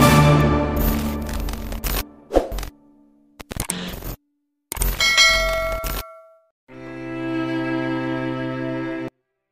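A cellphone rings loudly with sustained, layered electronic tones near the end, following a run of clattering, bell-like dings and scrapes.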